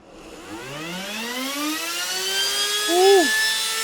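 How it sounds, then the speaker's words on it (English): A brushed RC mod motor with its timing turned up runs on a dyno, winding up in a rising electric whine that climbs steadily in pitch and peaks near the end, loud and close with no talking. "Okay, we have our timing turned up on this mod motor."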